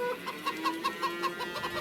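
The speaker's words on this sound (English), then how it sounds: "Looking at our chickens" Chickens in the video game Farming Simulator 25 cluck in a quick, even series of short notes, close and clear, with no other sounds.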